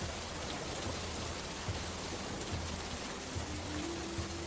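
Rain pours on a stormy night in a fairy-tale scene: a soft, continuous hiss of falling water, faint and even throughout, with no voices.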